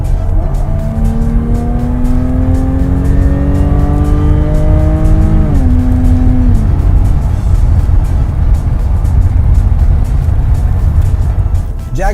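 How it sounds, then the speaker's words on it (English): A Jaguar F-Type in dynamic mode roars loudly up close, its engine note climbing steadily through the revs, then dropping sharply before settling into a dense, throaty drone. "when you press the dynamic mode, the sound in the back changes to a roaring Jaguar"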